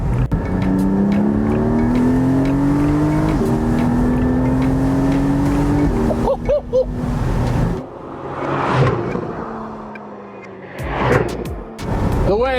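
A Porsche sports car engine pulls hard while driving, its pitch rising steadily through the gears, then eases off into quieter, intermittent rumbles and revs toward the end.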